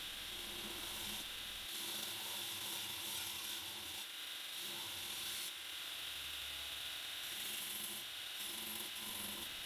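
Steady abrasive rubbing of 120-grit paper thinning and feathering the edge of a bolo blade near the plunge, a continuous close scratchy texture with brief pauses and no talk.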